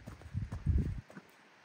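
Soft hoof steps patter across the ground for about a second, a brief cluster of animal footfalls, then quiet.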